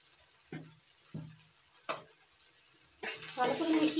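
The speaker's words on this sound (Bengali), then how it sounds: "ভালো করে মিশিয়ে নিচ্ছি।" Salt and turmeric stirred into a frying betoshak curry, three separate scrapes of a spoon against the pan at a slow rhythm under a low sizzle, ending in a louder, busier clatter of stirring.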